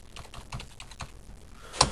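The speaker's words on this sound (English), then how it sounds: "I'm typing bibliography" Typing on a computer keyboard in Word 2007: a quick, irregular run of soft key clicks, close and fairly quiet, ending with one sharper, louder keystroke.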